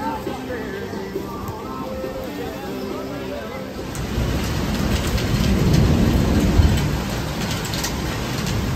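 A rainstorm with thunder at Panama City Beach, Florida: steady heavy rain hiss builds midway into a loud rumbling wash, with a faint voice talking early on.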